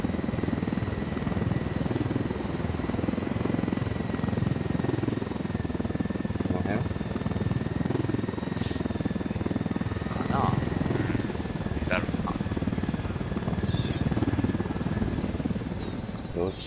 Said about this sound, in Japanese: ドローン飛行中。